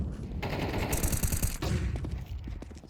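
Rapid gunfire rattles through a Counter-Strike match on the Nuke map, with dense overlapping bursts of automatic shots and sharp cracks filling the few seconds, loud and close.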